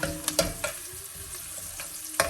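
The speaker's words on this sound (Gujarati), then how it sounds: "મુઠિયાનો વઘાર કરી દીધો છે રાઈ તલ લીલા મરચાં અને લીમડો" Mustard seeds, sesame, green chillies and curry leaves sizzle in hot oil as a tempering for muthia, a steady close frying hiss with a few sharp spattering pops and stirring clinks.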